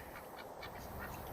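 Pekin and Rouen ducks on a farm quacking in a busy, overlapping cluster, steady and close with no talk.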